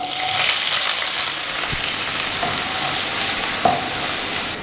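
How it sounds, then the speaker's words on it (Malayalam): Chopped onions dropped into hot coconut oil in a pan for quail roast, giving a loud, continuous close sizzle and frying hiss with a few faint stirring taps. "ഇനി നമുക്ക് ഇതിനകത്തോട്ട് അരിഞ്ഞ് വെച്ചിരിക്കുന്ന സവാള ചേർത്ത് കൊടുക്കാം."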